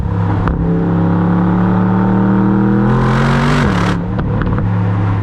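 Aston Martin DBX S SUV accelerating in fourth gear: a loud, close engine drone rises steadily in pitch, dips briefly as the power eases, then resumes, all heard from inside the cabin.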